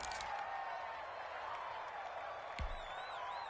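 A video game crowd in a PS4 American football match roars and cheers steadily at low volume during a big third-down play, a sustained wash of noise with a brief thump partway through.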